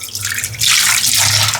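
Tap water running onto cooked noodles in a perforated sieve for rinsing, a loud steady splashing gush that swells sharply about halfway through and keeps pouring.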